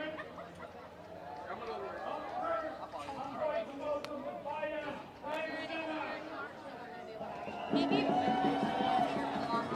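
Crowd chatter fills the air at a street protest, a dense murmur of many voices with louder nearby talk breaking through and a brief swell near the end.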